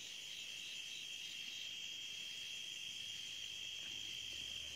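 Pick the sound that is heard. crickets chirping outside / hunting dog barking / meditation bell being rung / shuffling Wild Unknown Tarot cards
crickets chirping outside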